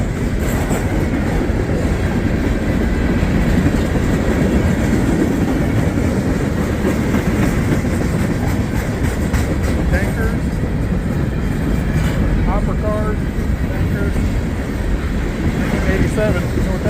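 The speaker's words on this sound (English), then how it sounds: "Two locomotives on the front, mixed freight. You could hear that." A mixed freight train led by two locomotives rolls past close by, a loud continuous rumble with rhythmic wheel clatter and some wind buffeting on the microphone across the whole stretch.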